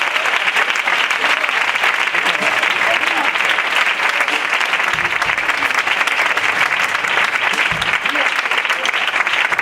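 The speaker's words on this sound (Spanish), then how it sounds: "Denle un fuerte aplauso al Señor." Loud, steady applause from a church congregation during a sermon in Bilbao, continuous dense clapping with faint voices mixed in throughout.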